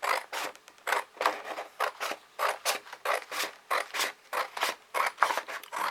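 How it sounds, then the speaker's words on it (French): Scissors snip steadily through paper while trimming away unneeded parts for a papercraft box, the crisp cuts coming in a quick, regular rhythm of about two per second, close and alone without talk. "je coupe les parties qui ne vont pas me servir"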